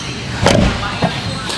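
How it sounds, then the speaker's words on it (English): A 2024 BMW M4's door swings shut with a solid, close thud, followed by a softer second knock, with a faint voice in the background. "Listen to this door shut."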